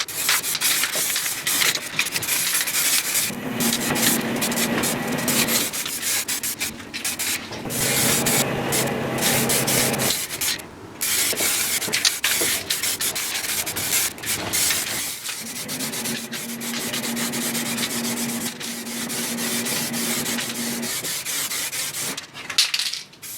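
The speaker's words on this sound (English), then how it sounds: "Right, let's get some primer on it." Etch primer is sprayed onto a stripped car front end in repeated hissing bursts from close by. Short pauses break up the spraying, and a steadier tone runs under some passes.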